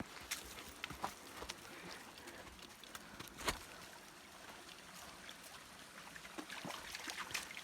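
Water trickles and babbles steadily over rocks, soft and continuous, with occasional small splashes and clicks nearby.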